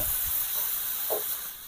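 Quarter cup of water poured into a hot pan of fried bottle gourd, giving a sustained loud hiss and sizzle of steam that lingers close and steady.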